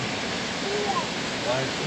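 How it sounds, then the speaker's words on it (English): A waterfall in the Colorado Rocky Mountains near Imogene Pass gives a steady, close rushing roar that fills the whole stretch, with a few brief high tonal chirps rising over it. "We're at the waterfall."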